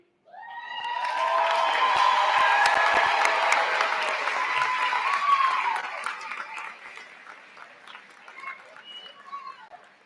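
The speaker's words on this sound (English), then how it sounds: "Can we get one more round of applause for our 2024 graduating class?" A commencement audience gives a sustained round of applause and cheering for a 2024 graduating class, the clapping swelling loudly, holding for several seconds, then thinning out as a few whoops linger.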